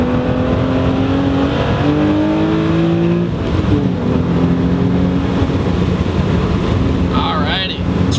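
A Hyundai Genesis Coupe eases around a bend, its engine droning loud and close with a tone that rises and falls, and a brief high squeal near the end.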